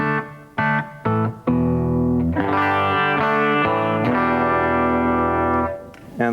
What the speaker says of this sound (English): the clean tone is essentially the sound of the guitar straight into the amp